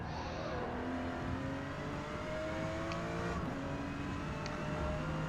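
Porsche GT2 engine in Forza Motorsport, S class racing at Maple Valley, holding a steady loud drone with rising and falling pitch through gear changes, alone without any talk.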